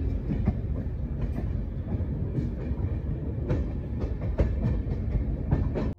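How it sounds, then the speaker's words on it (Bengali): The Delhi–Howrah Duranta Express pulling away from a junction platform at night, steady rumbling wheels with repeated clickety-clack rail joints and sharp clanks, close and loud throughout before cutting off at the end. "10 মিনিটের জায়গায় 15 মিনিট হল্ট দিয়ে ট্রেন বেরিয়ে চলে পরের গন্তব্যের উদ্দেশ্যে।"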